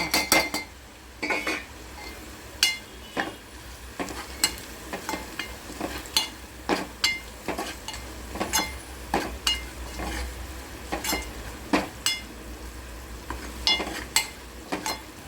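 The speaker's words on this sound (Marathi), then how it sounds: "लसूण पूर्ण भाजून झाले आपला घाटे स्पेशल मसाला आणि कांदा लसूण मसाला दोन्ही मिक्स करून" Spice masala stirred and roasted in oil in a pan after the garlic has browned. A close crackling sizzle runs throughout, broken by repeated sharp metallic clinks and scrapes of a spoon against the pan, with no talking.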